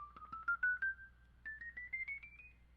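Hammond-style organ drawbar tone with percussion added, a soft sustained note line stepping upward in two rising runs, each note opening with a short bright ping, quiet and alone.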